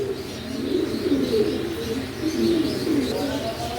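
Pigeons, a red female and a black male kept as a pair, coo in repeated soft throaty phrases, close by and steady, with faint chirps in the background.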